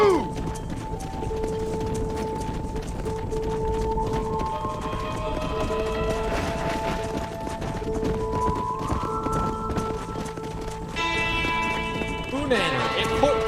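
A large herd of horses driven across pasture in Red Dead Redemption, a dense drumming of hooves with occasional whinnies, under game music tones and someone talking.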